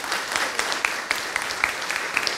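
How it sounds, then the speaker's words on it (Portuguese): Applause for the panelists at an IBM AI colloquium, a steady wash of clapping from a modest audience with a few sharper individual claps standing out, fairly even throughout. "Então, uma salva de palmas para os panelistas."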